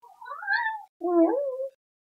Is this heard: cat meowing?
yes